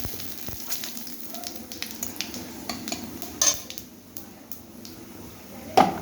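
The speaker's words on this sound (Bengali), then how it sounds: "আর একটু তেল দিয়ে দেব এবার আমি দিয়ে দিচ্ছি ফোড়ন দুটো শুকনো লঙ্কা আর তেজপাতা" Dried red chillies and a bay leaf sizzle in hot oil for spinach cooking, with a constant soft crackle, scattered utensil clinks and a couple of louder bursts of spitting.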